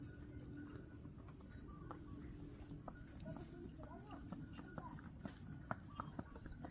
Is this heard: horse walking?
yes